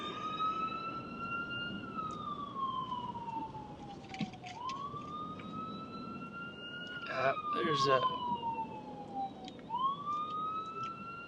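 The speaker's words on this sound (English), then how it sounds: "Let me just pull over and let the ambulance by before I get smacked by it a second time." Ambulance siren passing close by a stopped car, its wailing tone sweeping up and down in long cycles, loud and near, while someone speaks briefly over it.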